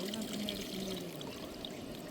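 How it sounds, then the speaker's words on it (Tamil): Water is drained off soaked, washed raw rice for curd rice, making a steady close pour and trickle, with a voice talking over it. "ரெண்டு தடவை நல்லா கழுவுறோம் அது வடிகட்டிட்டு மூணாவது தண்ணியில் வடிகட்டுவோம்"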